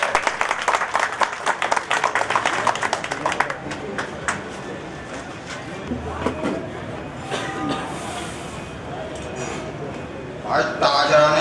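Audience applause at a gathering, a dense clatter of many hands clapping loudly over the first few seconds, then thinning into scattered claps and crowd murmur with voices talking underneath.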